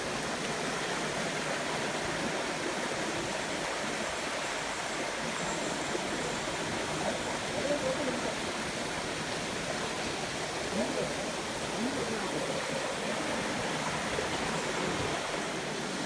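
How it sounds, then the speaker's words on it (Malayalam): A forest stream rushing steadily over rocks, a continuous close wash of water that holds an even level from start to finish. "ഇതവിടുന്ന് അരുവി ഇങ്ങനെ വരുന്നുണ്ട്"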